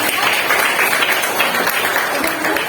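A classroom audience applauds a student group after its presentation, a dense, steady burst of clapping with some voices mixed in.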